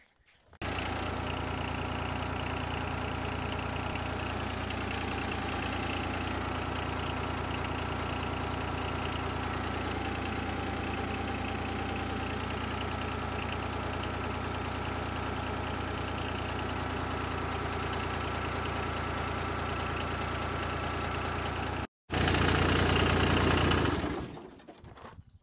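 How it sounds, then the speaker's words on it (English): A compact tractor engine idles steadily and close while a hydraulic cylinder is run in and out with the controls, the drone wavering slightly under load, then cutting briefly before a louder burst near the end, with no talking. "let's see if we can't run this cylinder in and out with the controls here"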